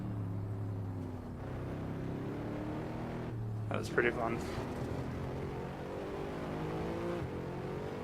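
A Mercedes-Benz SLS AMG engine drones steadily through a drag race in Assetto Corsa, with a brief rise in revs near the midpoint; someone talks over the constant engine tone.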